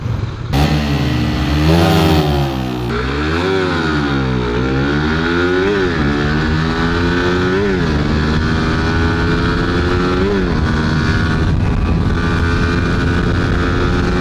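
A Suzuki Raider underbone motorcycle engine, stock setting, heard while riding: a loud, close, continuous engine drone with rising and falling revs through gear changes, plus wind rush, and no talk.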